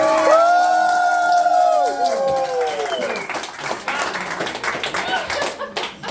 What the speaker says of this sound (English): Get a quick applause for my buddy who lost 2 pounds doing nothing tonight.